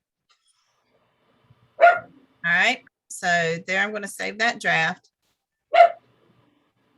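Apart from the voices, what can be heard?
dog barking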